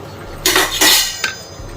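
A spoon scrapes through sesame seeds in a pan for til laddu, three quick dry scraping strokes with metallic clinks, close and fairly loud.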